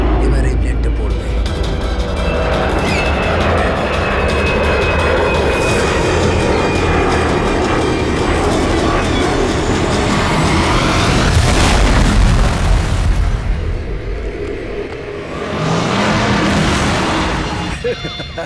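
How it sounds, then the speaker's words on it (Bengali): In a CID TV drama scene, an airplane's roar builds into a loud crash explosion effect, with a booming burst followed by a brief lull and then renewed rumbling, and dramatic sound underneath. "এবার এই প্লেনটা পড়বে"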